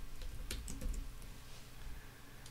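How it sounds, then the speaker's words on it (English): Quiet typing on a computer keyboard, a few quick key clicks near the start over faint background hum, then fading to near silence. "let me just type it one more time"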